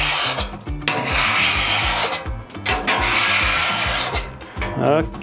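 Metal scraper rasping back and forth across a wet plancha griddle during its first use of the year, rhythmic repeated strokes loud and close, with a brief word spoken partway through.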